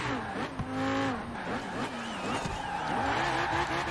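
A 2018 Lamborghini Huracan Performante in Forza Horizon 4 roars at full throttle, its engine note climbing and shifting steadily over the whole stretch, with brief tire squeal mixed into the loud, continuous drive.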